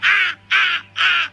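Three loud, harsh crow-like caws, each about a third of a second long, come in an even rhythm close by, with a low steady hum running underneath.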